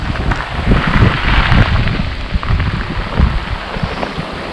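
Strong wind drives through a heavy rainstorm, with a continuous rushing roar and gusty buffeting mixed with dense falling rain. The sound stays loud and unbroken throughout, with no voices.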